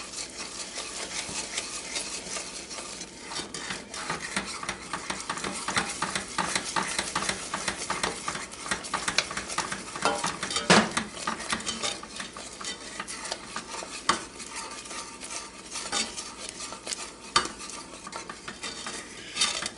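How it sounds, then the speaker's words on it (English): Warm cream is stirred into salted caramel in a pot with the heat off, a utensil scraping and swishing in a continuous close rhythm with soft bubbling, small clicks against the pan and occasional sharper knocks. "stirring constantly."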